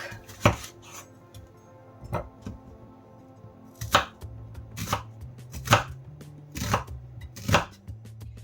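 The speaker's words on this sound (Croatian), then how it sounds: "Seckamo crni luk." Knife chopping an onion on a cutting board, with sharp, irregular chops in small bursts, close and clear, with no voices.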